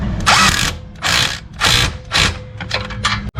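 Bolt being tightened on a catalytic converter Y-pipe of a 2005 Mercury Sable / Ford Taurus: repeated loud bursts of mechanical ratcheting, four main runs with short pauses, close up.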